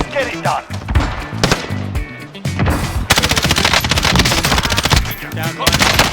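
Heavy automatic gunfire and rapid shots from the Warzone video game, continuous loud bursts throughout with dense overlapping shooting and possible faint voices underneath.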